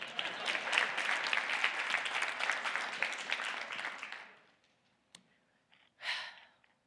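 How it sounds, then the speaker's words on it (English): An audience at a theatre conversation event claps for about four seconds, dense and lively, then fades into near silence broken by a click and a brief breathy sound. "Y'all can clap"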